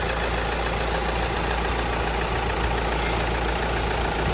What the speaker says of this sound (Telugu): నేను ఇప్పుడైతే Mahindra XUV 3XO AX5 diesel variant drive చేస్తున్నా.